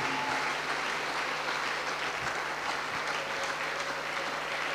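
Church congregation clapping and acclaiming the Lord, a dense, sustained wash of applause filling the room at steady loudness, with a low hum underneath.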